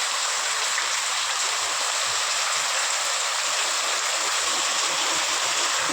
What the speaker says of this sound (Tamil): எங்கள் ஊருக்கு நல்லா மழை பெய்யுதுங்க ஃப்ரெண்ட்ஸ்.